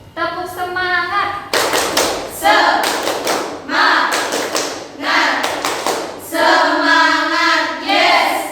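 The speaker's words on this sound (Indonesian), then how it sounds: "Coba kita tepuk semangat dulu" A vocational nursing class does the rhythmic 'tepuk semangat' clapping chant: groups of crisp, loud claps alternate with students chanting in unison, all close and energetic throughout.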